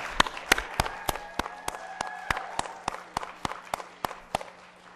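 Audience clapping at a NASDAQ closing bell ceremony: a few sharp, separate claps in a steady rhythm, fairly faint, with no cheering.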